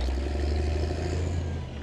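A cartoon digger's steady, low engine rumble with a rough mechanical rattle, continuous and fairly loud throughout, with no voices.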